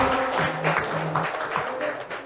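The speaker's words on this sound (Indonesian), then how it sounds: "Beri tepuk tangan sekali lagi untuk para calon" Clapping from attendees at a village head candidate number-drawing meeting, a moderate wash of hand claps with a steady hum underneath and faint voices mixed in.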